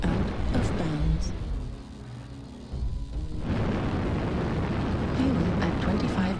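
A video game airstrike explosion rumbles in a dense, continuous roar that dips briefly midway and then surges back. Low booms keep rolling under a voice.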